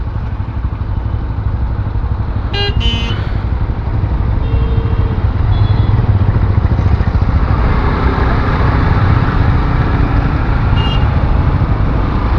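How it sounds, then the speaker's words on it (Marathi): A road traffic jam rumbles with idling motorcycles and trucks, a loud continuous engine drone with occasional horn blips and clatter, heard close and without talk. "जाम मित्रांनो ट्रॅफिक झाले"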